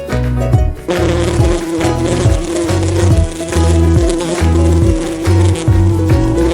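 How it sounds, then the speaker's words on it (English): A bee buzzes in a continuous, wavering drone, loud and close, without any speech. "Bee."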